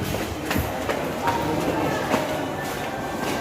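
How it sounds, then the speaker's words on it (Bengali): A train pulls into Khidirpur station in Kolkata, a steady rumbling roar with faint rhythmic clatter from the wheels, heard at moderate distance under ambient platform noise and a nearby voice. "ট্রেন ঢুকছে মনে হচ্ছে নাকি"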